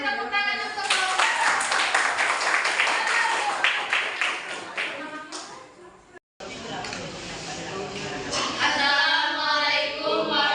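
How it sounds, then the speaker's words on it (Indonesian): Students in a classroom clap for a presenting group, a dense, continuous patter mixed with chatter and voices, broken by a brief gap just past the midpoint before the clapping and talk resume. "silakan kelompok 2 yang lain beri tepuk tangan untuk kelompok."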